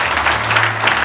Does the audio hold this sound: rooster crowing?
no